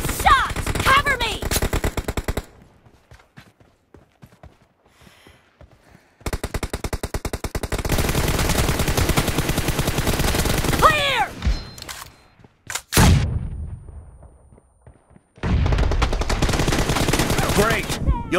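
Gunfire in the video game PUBG during a team deathmatch: loud rapid bursts of automatic fire come in several long volleys separated by short quiet gaps.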